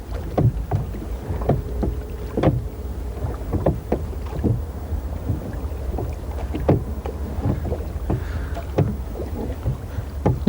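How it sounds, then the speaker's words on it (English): Oars dip and pull in a steady, regular rhythm as a small rowing boat moves across a lake on a carp fishing trip in Italy, each stroke a short splash over a constant low rumble of light wind. "I'll just row back to put the bait in"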